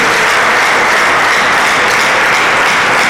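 A church congregation applauds in praise during a worship service, a dense, loud, continuous wash of clapping that stays steady throughout with no clear gaps.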